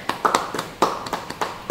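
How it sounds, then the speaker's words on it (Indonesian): Scattered hand claps from a small church congregation during a Bible study, several sharp irregular claps close to moderately near, with no talking over them. "Beri tepuk tangan bagi dia."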